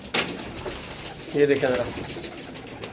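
Pigeons in a home loft coo softly in short bursts near the middle, mixed with someone talking over them and light background rustle.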